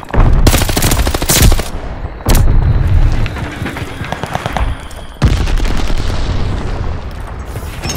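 Rapid automatic bursts from an M1A1 Thompson submachine gun in Call of Duty Vanguard on PS5, loud and close, several sustained strings of fire separated by short pauses, with explosive booms mixed in.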